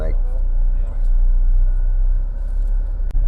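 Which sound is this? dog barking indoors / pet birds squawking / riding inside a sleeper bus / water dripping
riding inside a sleeper bus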